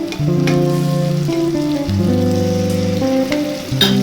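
Loud, steady sizzling of garlic-ginger paste frying in hot oil, with music playing in the background.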